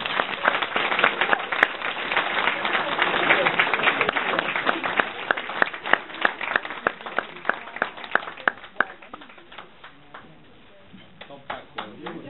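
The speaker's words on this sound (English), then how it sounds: "I'd like to give them a round of applause" Wedding guests applaud after a best man speech, a dense roomful of clapping that builds, then thins into scattered individual claps near the end, with some voices mixed in.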